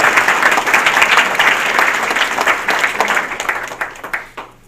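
A banquet crowd at a rod and gun club dinner applauds the Auburn Trap Club, steady dense clapping that holds loud and near, then thins and tapers off toward the end.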